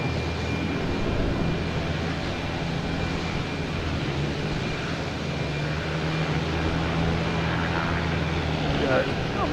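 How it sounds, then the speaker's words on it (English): Boutique Air propeller plane engine roaring near the ground at Boston Logan Airport, a steady loud drone filling the whole stretch with a low hum underneath and faint background voices. "Boutique Air making all the racket down here"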